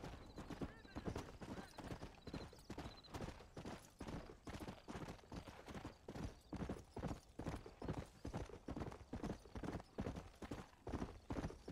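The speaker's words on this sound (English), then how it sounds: "There is a lot of horseback riding in this game." Horse hooves clip-clopping in Red Dead Redemption, a steady rhythmic gallop of close, loud hoofbeats running throughout, with a brief whinny mixed in.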